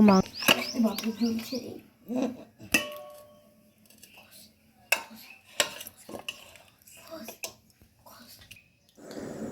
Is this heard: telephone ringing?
no